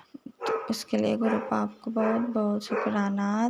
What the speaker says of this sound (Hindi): अभी मैं सत्संग कर रही हूँ तो कुत्ते भौंक रहे हैं